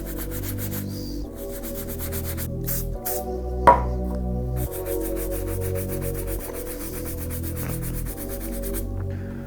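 A soft bristle brush works mink oil into the red suede of 2016 Air Jordan 13 sneakers, producing a steady, close scrubbing rasp with one sharp knock, all under background music.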